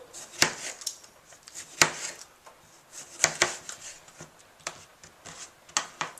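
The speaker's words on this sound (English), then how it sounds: "So now we'll cut up the tomato." Knife slicing a vine-ripened tomato on a cutting board, with a series of sharp, close taps in an irregular rhythm over soft rubbing and faint kitchen noise.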